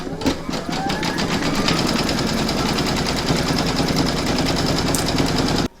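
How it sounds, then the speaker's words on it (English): An embroidery machine quilting a coaster, stitching in a fast, steady mechanical chatter that stays loud and even for several seconds and then stops abruptly. "load whatever colour you want into your machine and then stitch round"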